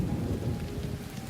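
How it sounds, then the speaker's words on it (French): Heavy rain falls during a thunderstorm, a dense, steady hiss and patter with a low rumbling undertone, continuous and fairly loud throughout. "Tu entends ce bruit? Oui, c'est la pluie."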